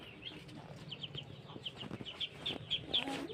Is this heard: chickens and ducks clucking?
yes